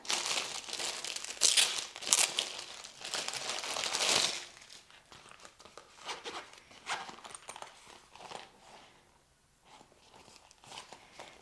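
A small plastic bag from a Hyzuo 16-inch MacBook Pro case unboxing crinkles and rustles in close, bursty handling that fades to quieter, sparser rustles.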